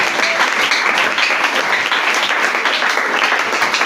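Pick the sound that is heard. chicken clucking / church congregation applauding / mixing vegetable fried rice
church congregation applauding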